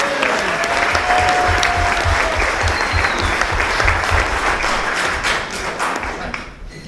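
Wedding guests give a sustained round of applause for the hosts, steady dense clapping filling the room throughout with faint low thumps beneath.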